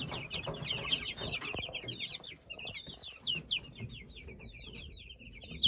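A rooster clucks and chatters continuously in a series of short, bright calls over low background rumble, fairly close and moderately loud.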